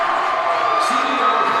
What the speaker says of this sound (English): The Blue Devils getting a lot of love from the crowd here.